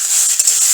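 Bottle gourd frying in a pan with turmeric and chilli powder, a steady bright sizzle holding evenly throughout, close and alone.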